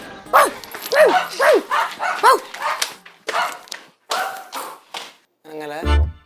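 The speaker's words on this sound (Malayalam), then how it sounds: "പട്ടി കടിക്കൂന്ന്" A dog barks in a quick run of sharp, close yaps, with people talking over and between the barks and a low thump near the end.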